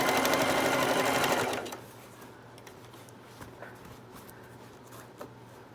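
Sewing machine stitching a zipper into a tote bag, running in a steady loud rapid chatter for under two seconds before stopping, followed by quiet handling clicks.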